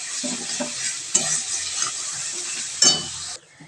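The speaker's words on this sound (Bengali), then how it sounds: "দেখো, তেল ছাড়া স্টার্ট করে দিতে, এবার আমি আলুটা দিয়ে দেবো।" Potatoes dropped into frying spices in a kadai for khichuri, with a loud bright sizzle and repeated scraping stir strokes, bursts swelling at intervals before the sound drops away near the end.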